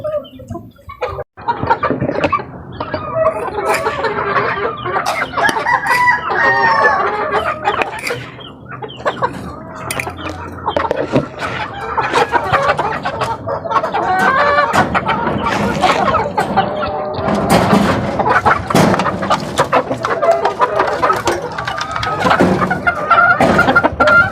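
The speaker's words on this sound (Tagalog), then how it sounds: "magandang kumain yung aking mga alagang manok" Chickens cluck steadily and densely, with scattered rooster crows rising above a busy, close barnyard flock; no talking.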